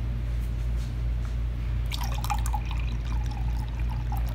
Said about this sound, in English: I'm gonna let you see what this looks like as it pours out.